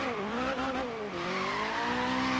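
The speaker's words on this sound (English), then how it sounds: "And it actually drifts" Scion FR-S, a nearly stock Toyota GT86, drifting in Forza Horizon 3, its tires squealing in a long continuous wail as the engine drones steadily underneath, with no one talking.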